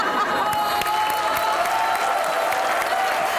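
A studio audience at a talk show applauds for Noman with dense, continuous clapping and a faint crowd murmur, holding level and loud for a few seconds.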